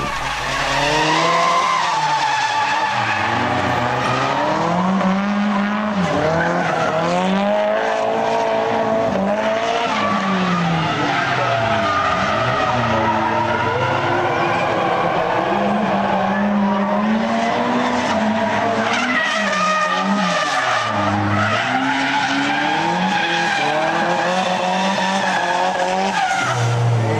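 A Nissan S14 with an SR20DET engine drifts in Japan, its engine revving hard and rising and falling continuously under long, loud tire squeals that run nonstop throughout.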